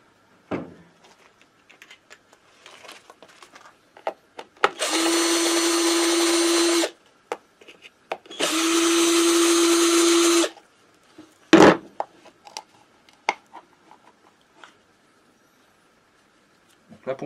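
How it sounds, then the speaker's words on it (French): A cordless screwdriver buzzes in two steady bursts of about two seconds each, backing out oil pump screws on a Peugeot AM6 moped engine, with light metallic clicks and handling noises around them in a quiet workshop. "je prends la visseuse pour les dévisser"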